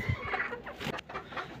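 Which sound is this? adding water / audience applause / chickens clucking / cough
chickens clucking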